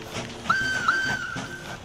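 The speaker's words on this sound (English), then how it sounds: "It's got a little bit more of a chirpy kind of whistle on it." A chirpy steam train whistle from the railway game Mashinky: two short high toots, then a longer sustained whistle, fairly clear over a low background.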